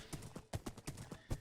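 Horse hooves clip-clop in Minecraft, a quick steady rhythm of hollow knocks at close range with no talk.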